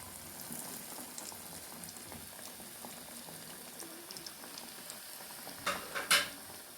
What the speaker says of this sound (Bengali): আমি তেলের মধ্যে ছেড়ে দিলাম, এক এক করে সবগুলো ছেড়ে দিতে হবে এভাবে।